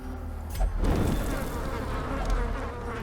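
Dense, continuous buzzing of insects from a hive in the video game Darkest Dungeon, loud and steady throughout with a low droning hum underneath.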